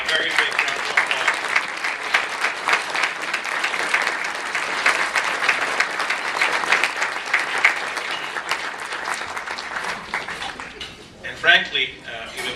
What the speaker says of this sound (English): I think you deserve a very big round of applause.